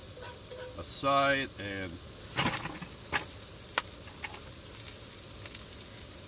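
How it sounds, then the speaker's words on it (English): Peppers and onions are pushed around a frying pan while breakfast cooks in a van, giving a soft sizzle with scattered scraping clicks; a voice speaks briefly over it near the start. "Gotta make room, move the peppers and the onions"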